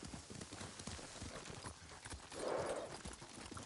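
Steady clip-clop of horse hooves on a hard surface in the video game Ghost of Tsushima, rhythmic and moderately close, over a low ambient background with a brief swell near the end.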